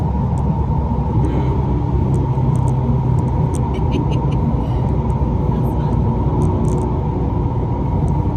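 A car drives at about 125 mph, either a twin turbo V6 Mustang or a Camaro SS 1LE, heard from inside as a loud, steady road and engine rumble with wind roar and no clear speech.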